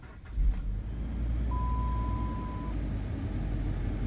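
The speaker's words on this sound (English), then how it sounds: "Fires up real good." A 2009 Chrysler Sebring with a cold no-start problem cranks briefly, then catches and settles into a steady idle, close and even. A thin electronic tone sounds partway through.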